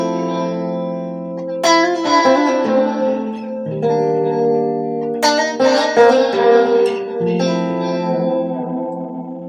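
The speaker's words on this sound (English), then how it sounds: "This is the sound of the room reverb." Room reverb from a reverb pedal colours sustained, strummed guitar-like chords, each attack blooming into a smeared, lingering wash that fades under the next, loud and continuous with no talking.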